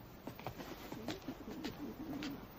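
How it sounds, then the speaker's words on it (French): Pigeons coo softly in a cage, a series of low, rolling throaty calls repeating at a steady pace against a quiet background. "Une cage pour mes pigeons."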